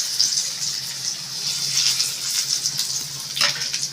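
Boiled potato hits hot oil seasoned with bay leaf, chilli and chopped garlic, giving a continuous bright sizzle with gentle bubbling fluctuations throughout the short stretch.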